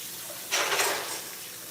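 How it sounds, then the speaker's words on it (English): Water runs from a kitchen tap for hand washing after cooking sweet potatoes and stew fish, a brief soft hiss rising suddenly and fading over about a second. "And cover this and wash my hands."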